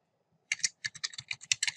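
Close, crisp typing of code on a computer keyboard: a short silence, then a quick, uneven run of about ten clicking keystrokes with no talking.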